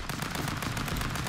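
Dense, rapid gunfire from shooting boxes in the Stick Fight video game rattles continuously and loudly, with no pauses, for the whole moment.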